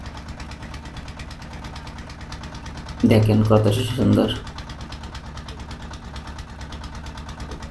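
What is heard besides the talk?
trawler boat engine on river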